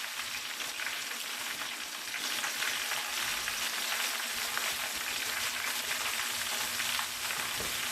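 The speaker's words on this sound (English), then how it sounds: "You need a lot of oil to fry the pepper" Pepper fries in a generous pool of hot oil in a home kitchen pan. A steady, close, crackling sizzle runs evenly throughout with no voices.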